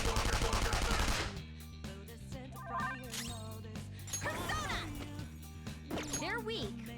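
Gun attack in the video game Persona 5 Royal: a loud burst of rapid gunfire at the start, followed by game music, menu chimes and effects, with talk over it.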